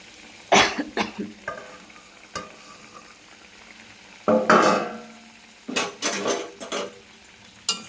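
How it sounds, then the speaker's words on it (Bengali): Paneer and pointed gourd fry in a pan and are stirred gently, with a soft sizzle broken by clear scraping and clinking bursts of the spatula against the pan, some close and loud, others lighter, separated by quiet gaps. "হালকা হাতে নেড়ে দেবো, বেশি নাড়াচাড়া করবো না"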